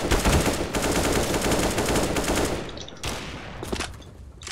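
Rapid bursts of gunfire from a French-speaking team's ranked tactical shooter match, loud and continuous through most of the stretch with dense automatic fire, thinning to scattered shots near the end.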